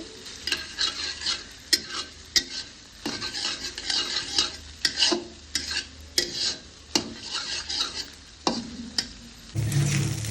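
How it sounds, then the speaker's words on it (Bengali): A spatula stirs softened rice with vegetables and egg in a frying pan for a child's fried rice, giving repeated scraping strokes and clinks over a low sizzle, close and fairly loud, with a brief louder scrape at the end. "এখন এই ভাতের সাথে ভালোভাবে আমি ভেজিটেবলস এগ এগুলো মিশিয়ে নিচ্ছি"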